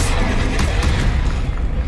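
A Confringo blasting spell exploding in the video game Hogwarts Legacy, a loud, dense burst of booming rumble that fills the whole moment and tails off slightly at the end.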